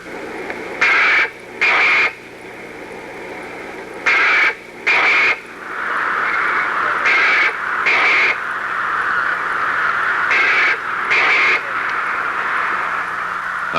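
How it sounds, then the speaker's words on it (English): Rook distress calls broadcast through a loudspeaker at dusk over a roost, heard as repeated pairs of harsh, squawking bursts at regular intervals above a steady background hum. "the roosting rooks are put up by broadcasting their distress call through a loudspeaker"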